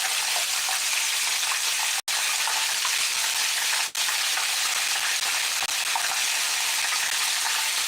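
Shrimp fry in a hot pan with a steady, loud sizzle that crackles and hisses continuously, broken by a couple of brief dropouts.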